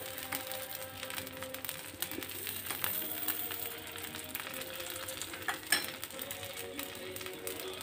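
Dosa batter poured thick onto a hot pan with a little oil sizzles steadily and up close, a constant crackling hiss with scattered pops and small spikes, no talking.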